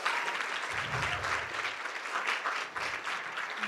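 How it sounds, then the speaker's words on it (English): An audience at a moot court competition applauds, a steady, dense clatter of clapping hands filling the room without any voices on top. "Can we get another round of applause for the incredible job that was just done?"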